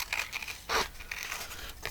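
Small scissors snip paper during fussy cutting of a butterfly for a journal, giving a few quiet crisp cuts with one louder, fuller snip near the middle, close to the microphone with no talking.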